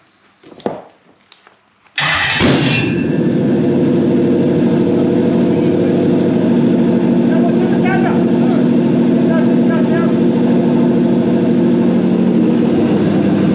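A brief rustle, then an engine fires up loudly and settles into a steady, close idle that runs continuously.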